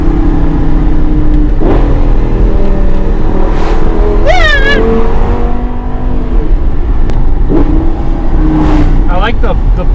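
A Lamborghini Gallardo or supercharged Mustang engine roars close and loud, with sharp throttle blips rising and falling several times over a constant drone while people talk excitedly.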